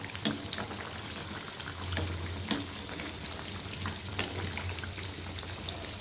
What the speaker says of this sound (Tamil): நான் வந்து கொஞ்சமாக செய்கிறனால ஒரு பேஜாவே முழுசாக வந்து போட்டு பொறிச்சு எடுத்துக்கிறேன்